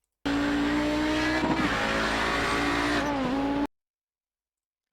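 Audi 90 GTO race car lapping the Spa circuit, engine roaring loud and close at high revs with gear changes and brief drops as it brakes, then cutting off abruptly.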